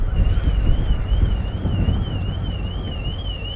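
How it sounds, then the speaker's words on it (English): A warbling electronic car alarm wavers up and down in a steady cycle, faint and distant beneath strong wind noise, heard from a ferry deck at Cowes, Isle of Wight. "the car alarms go off right on cue"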